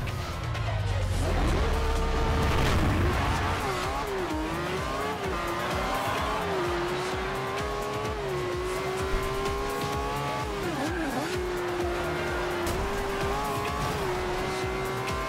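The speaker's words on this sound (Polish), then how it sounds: "nacisnąłem hamulec nożny i samochód zaczął driftować" A race car in Forza Horizon 2 drifts through a corner, its engine note rising and falling with tire squeal and skidding, loud and sustained for the whole stretch.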